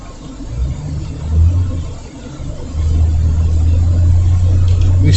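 Steady car engine rumble and road noise while driving in traffic on a hot day, a continuous low drone with a brief rise in revs, then a steadier heavier hum.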